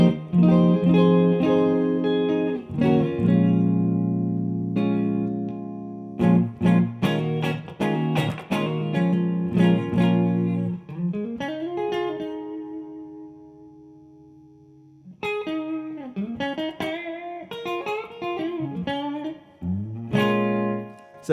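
Electric guitar played through a Two-Rock Bloomfield Drive amp on its blackface Fender setting with reverb down, clean chords and single notes ringing and bending, with pauses between phrases, close and unaccompanied.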